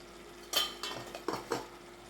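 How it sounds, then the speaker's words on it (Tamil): A few short clattering, scraping knocks of a utensil against a pan, spaced unevenly, with a faint sizzle of vegetables frying in oil beneath, for a village-style dried stingray curry. "காய் நல்லா எண்ணெயிலே வதங்கிட்டு இருக்கு"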